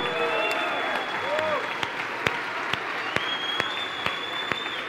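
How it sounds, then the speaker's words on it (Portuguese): Steady applause from a large church congregation fills the space, with a few sharper claps standing out and a sustained tone running underneath. "Louve a Deus com o seu aplauso."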